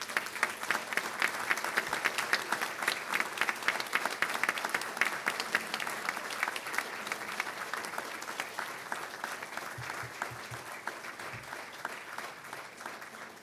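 Audience at a graduation ceremony in Dublin gives sustained, dense applause lasting throughout, steady and full without a break, with a few low thumps near the end.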